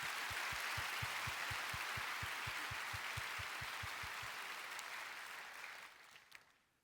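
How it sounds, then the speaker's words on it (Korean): A congregation at a Korean Christian prayer meeting applauds in encouragement and blessing, a soft wash of clapping with a steady beat of low thumps that gradually fades away. "박수로 응원하며 축복합니다."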